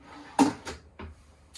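Soft-close drawers shut inside a 2020 Showhauler motorcoach, giving a few short, muffled thumps in quick succession, close by and fairly quiet, with no talking.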